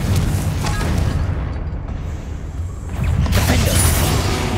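A Confringo blasting spell going off in the Hogwarts Legacy video game, a deep booming explosion with a rumbling low tail, swelling again after a brief dip, with no voices over it.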